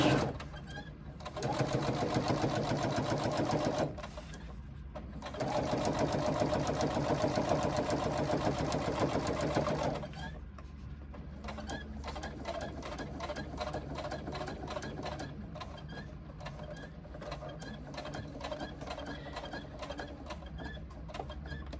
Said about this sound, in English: We sew across the bottom of this pocket first with 1/8 of an inch from the edge.